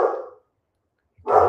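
A dog barks twice, close and loud, with one bark at the start and another after a short silence.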